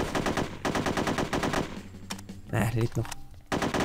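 AK rifle fire in the shooter game NOLF 2 comes as rapid bursts of close, loud automatic shots, with a short pause midway. Someone talks over the shooting.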